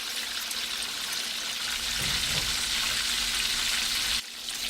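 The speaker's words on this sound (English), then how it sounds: "Now I'm going to let these fry for a second." Calamari and whiting fish frying in hot oil give a dense, continuous close-up sizzle and crackle that cuts off abruptly near the end.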